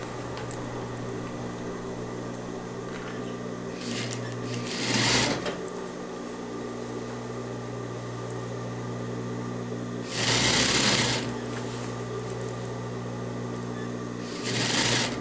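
A sewing machine stitches a seam on men's trousers in steady whirring runs, pausing between them, with short louder bursts as it speeds up or backtacks.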